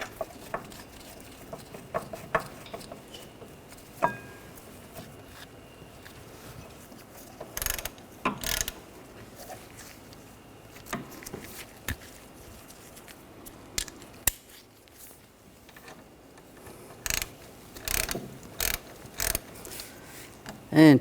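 Ratchet tightening rear brake caliper bracket bolts on a 2013-2019 Ford Escape, with bursts of rapid clicking ratchet strokes separated by pauses and quieter handling noises.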